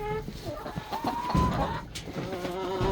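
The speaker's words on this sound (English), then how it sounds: "These chickens are very happy." Chickens clucking in a coop, several hens giving overlapping clucks and short calls at close range, with no talk over them.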